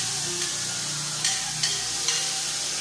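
Tomatoes hit a pan with onion for tokwa in sweet sauce and fry with a steady sizzle, with a few sharp utensil scrapes as they are stirred, no talking.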